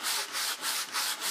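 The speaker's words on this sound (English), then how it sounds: "Sanding alone cleans the top." Sandpaper scrubs across the top of an old wooden dresser in close, steady back-and-forth strokes, about five rasping passes with brief dips between them, and no voices.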